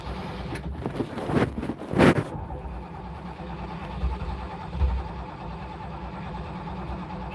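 A long-dormant Ford Thunderbird engine with a big carburetor running just after starting, a steady low rumble with a couple of louder revs near the start, close by.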